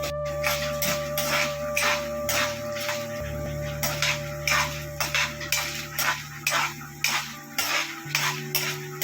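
A utensil scrapes and taps steadily against a pan while pongamia leaves are stirred and roasted, a repeated rhythmic clatter of metal on metal that is close and fairly loud, with a low hum underneath.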